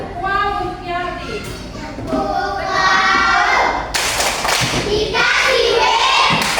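Third-grade children in a classroom perform a chanted clapping cheer for a classmate, voices calling out in unison before a burst of loud rhythmic hand claps and thumps.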